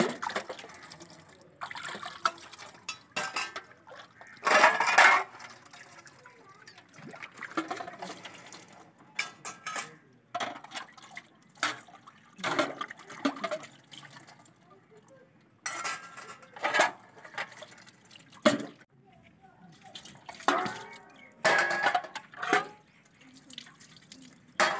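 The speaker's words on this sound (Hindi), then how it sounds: "अब मैं इन्हें पानी से अच्छी तरह से धोऊंगी।" Utensils being washed with water in a village home: repeated clinks and clatters of metal pots and dishes, with splashes and drips in close, irregular bursts across the whole stretch.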